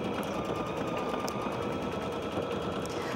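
An embroidery machine stitches a quilt design with a steady, fast mechanical chatter and a faint whine, moderately quiet and continuous.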